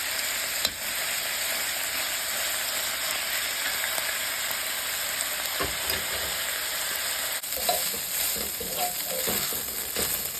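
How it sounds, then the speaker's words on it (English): Pork browning in a pan for Bicol Express hisses in a loud, even sizzle throughout, with a few scraping, rattling stirs toward the end and no talk. "Now I'm going to add in the pork. And brown it, stirring occasionally for about 10 minutes"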